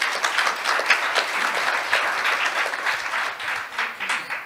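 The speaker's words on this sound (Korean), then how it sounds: "함께 하시는 모든 연자분들에게 큰 박수로 환영을 해주시면 감사하겠습니다" Sustained applause from a conference audience welcoming the speakers at an Asia-Pacific ADR conference session, a steady dense wash of many hands clapping at even loudness throughout, with no voices over it.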